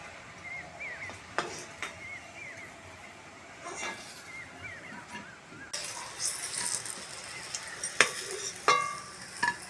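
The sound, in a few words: cabbage kofta balls deep-frying in oil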